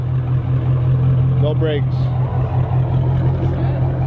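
A Chrysler 300C with the 5.7 Hemi V8, JBA shorty headers and no mufflers rumbles at a steady, deep idle throughout, with people talking over it.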